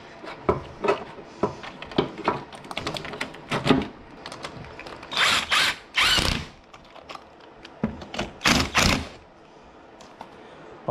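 An air filter being fitted onto a J37 throttle on a supercharger, with close clicks, ratcheting scrapes and plastic rubbing in irregular bursts, a few louder rustling pushes in the middle, no talking.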